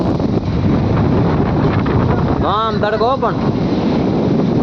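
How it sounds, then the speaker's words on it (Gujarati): Strong wind buffets the microphone with a steady roar throughout on a farm near a well, and someone speaks briefly in the middle. "ફૂલ પવન છે વાડીએ"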